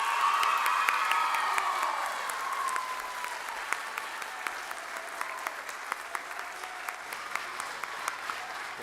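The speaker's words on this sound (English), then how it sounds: "And let's give Brother Garrett a round of applause for everything that he's done." An audience at a school spring play claps and cheers, with loud whoops early on, then settles into softer, steady applause with scattered distinct claps.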